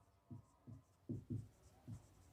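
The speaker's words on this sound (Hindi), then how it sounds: "मैं यहाँ थ्योरम लिख देता हूं" A theorem being written on a board during a maths lesson on the angle-sum property of triangles: five or six short, dull chalk strokes in an irregular rhythm, close and fairly quiet, with no talking.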